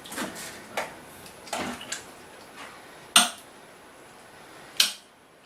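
A clean spoon and metal pots and dishes clink and clatter in a home kitchen, with scattered light knocks and two sharper metallic rings standing out against a quiet background.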